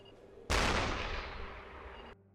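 Gunfire across the water in the submarine game UBOAT, heard as a sudden loud blast that rolls on as a sustained roaring rumble for over a second and a half before cutting off abruptly.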